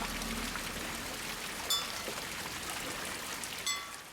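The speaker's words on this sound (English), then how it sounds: "hearing streams trickling down" Soft, steady trickle of mountain streams in Sikkim near Rumtek Monastery, a faint continuous water wash with a couple of brief higher splashes.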